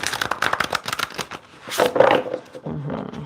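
A deck of tarot cards is shuffled up close in quick, papery riffles and slaps that come in uneven bursts with short pauses between them, and no one speaks.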